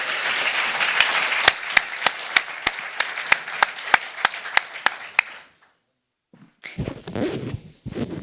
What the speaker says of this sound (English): A big applause for His Excellency Ban Ki-moon, the former Secretary General of the United Nations.